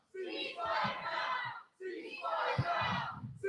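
A lively crowd at a Dearborn community rally for Palestine chants a short slogan in unison, two loud close bursts of massed voices separated by a brief pause.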